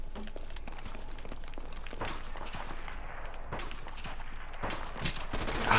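Sniper rifle shots crack at a distance during a Modern Warfare Remastered gun game match, sharp isolated reports scattered irregularly over a steady bed of battlefield noise and footsteps.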